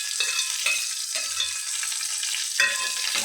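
Chopped onion, curry leaves and garlic fry in a pan with a steady, close hiss and sizzle, broken by a few clinks and scrapes of stirring.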